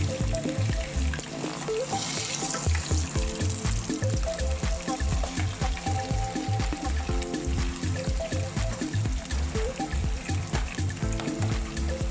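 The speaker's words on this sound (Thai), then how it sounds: "เดี๋ยวเราก็จะปล่อย ทอดไปสักพักหนึ่งนะครับ" Frogs deep frying in oil with garlic bubble and crackle in a steady, dense patter, with rhythmic low thumps throughout; close and continuous, no talk.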